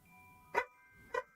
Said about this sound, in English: Dog is very excited in the background.